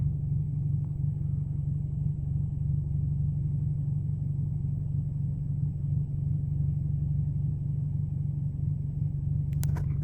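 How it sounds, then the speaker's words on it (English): A Nissan GT-R pulls up close by, its engine giving a steady, low rumbling idle that holds through the whole stretch with no voices over it. "And a GTR, of course, pulls right up."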